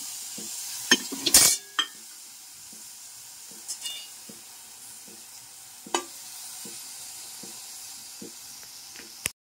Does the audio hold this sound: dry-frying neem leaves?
yes